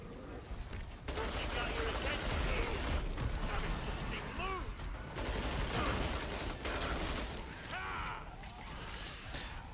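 Sustained automatic fire from a SCAR rifle in Killing Floor 2, rapid loud bursts over a dense, chaotic battle din with brief pauses between volleys.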